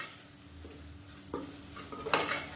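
Turmeric and biryani masala sautéing for chicken biryani, a low quiet sizzle broken by a few sharp scrapes and clinks of a spoon against the pot near the end.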